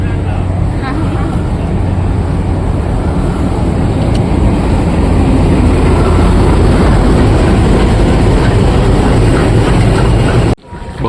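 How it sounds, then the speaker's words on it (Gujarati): Long passenger train rolling past a station platform on a Shimla-Manali trip, a loud close continuous rumble and clatter of wheels, steady throughout before cutting off at the end, with people talking underneath. "બહુ લાંબી ટ્રેન છે"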